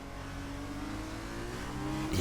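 A Formula 2 race car at the Belgian Grand Prix roars steadily through a qualifying lap, its engine note holding loud and close with a rising surge near the end.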